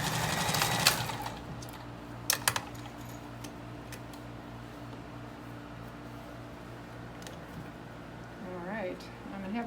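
A sewing machine stitches the hem of a fully lined jumper in short rapid mechanical bursts and clatters, with a few sharp clicks, while a person talks over it.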